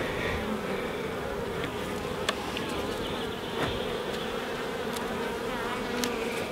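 Honey bees buzzing inside an open hive during a queen check, a dense continuous close hum with occasional sharp clicks and knocks.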